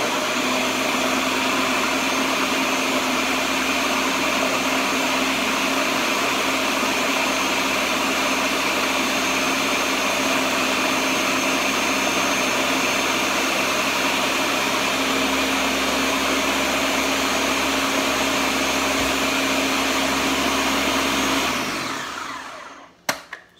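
A blender runs on high, mixing vegan chocolate pudding in a steady, loud whirring drone for over twenty seconds before switching off and winding down with a few clunks.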